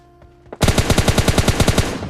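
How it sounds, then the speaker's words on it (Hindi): In a video game, after a couple of faint clicks, a loud burst of rapid automatic gunfire erupts, about a dozen sharp shots in quick succession, close and punchy. "पीछे से गोलियों की आवाज आ रही थी"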